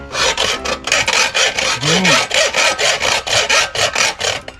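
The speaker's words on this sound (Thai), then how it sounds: "ค่อยๆเลื่อยไปนะครับ" A hand saw cuts a notch into steel for a homemade dart gun in quick, even back-and-forth strokes, about four per second, close and loud with no voices.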